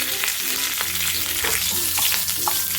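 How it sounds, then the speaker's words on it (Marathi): Curry leaves, green chilli and garlic paste fry in hot oil for a potato bhaji, making a loud, continuous crackling sizzle with small pops throughout. "आपण थोडासा कढीपत्ता टाकून घेऊया हिरवी मिरची आणि लसूण पेस्ट आहे ते पण आपण अर्धा चमचा टाकून घेतले"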